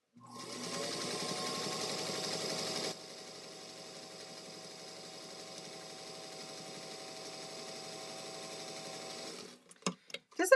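A sewing machine stitching strips for quilt piecing, a steady close mechanical whirring hum that runs at a faster pace, then slows slightly and continues before stopping, followed by a few clicks and knocks.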